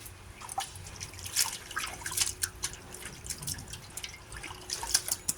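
A dog dips its mouth into a water bowl indoors, giving repeated light dripping and splashing sounds at close range with no voices.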